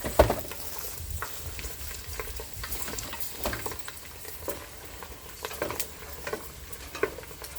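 Small fish frying in hot oil for a Filipino fish-and-chips dish, with a steady crackling sizzle broken by scraping stir strokes and light clinks of a utensil against the pan, close and continuous with no talking.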